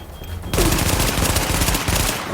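Rapid automatic gunfire in the video game The Division erupts after a brief quiet and continues as a dense, loud burst of overlapping shots, with no talk over it.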